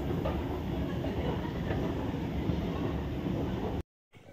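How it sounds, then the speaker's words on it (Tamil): A metro train in Chennai rumbles steadily from inside the carriage, a dense continuous roar that cuts off abruptly near the end. "மெட்ரோ ட்ரெயினில் ட்ராவல் பண்ணி முடிச்சிட்டோம்."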